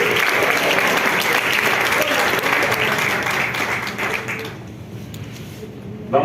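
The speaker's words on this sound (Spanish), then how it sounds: "Vamos a dar un fuerte aplauso al Señor." A church congregation bursts into loud, sustained applause at an Easter resurrection service, dense clapping that fills the room and then fades out toward the end.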